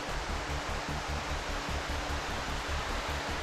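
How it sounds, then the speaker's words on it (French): A waterfall pours beneath a canal bridge, a steady, loud broadband rush of falling water that stays constant throughout with no voices. "Et cette cascade sous le pont-canal"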